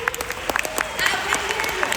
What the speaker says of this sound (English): Would you give yourself a round of applause, please?